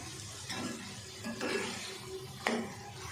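Onions and three or four green chilies sautéing in a pan for keema pyaz, a steady close sizzle with a few brief stirring scrapes and one sharper clink near the end.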